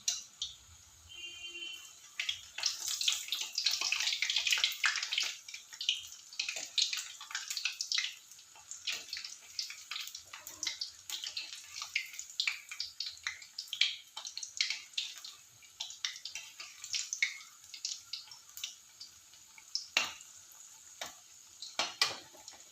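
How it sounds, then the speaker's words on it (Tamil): Vada deep-frying in a pan of hot oil as oil is ladled over it, a steady bubbling sizzle with crackles and scattered spoon clinks, moderately loud and sustained with no talking. "கொஞ்சம் இப்படி எண்ணெயை வாரி விட்டால் நல்லா வெந்துடும்."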